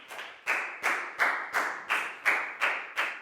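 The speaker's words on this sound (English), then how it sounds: "Big round of applause for Prau, please, guys." A round of applause in a Year 4 English class sounds as slow, regular clapping, about nine evenly spaced claps in a steady rhythm, close and clear with no talk.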